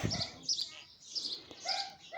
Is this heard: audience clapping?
no